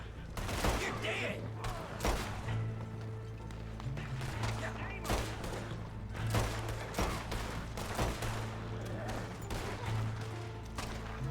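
A wagon-job shootout in Red Dead Online: repeated sharp gunshots crack in quick irregular volleys over a constant hum of game ambience, near and fairly loud throughout.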